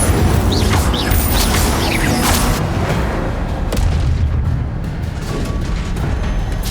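A fire spell is cast in the wizarding game Hogwarts Legacy, giving a loud, sustained roaring whoosh with a booming burst and crackling texture that fills the whole clip, with no voices over it.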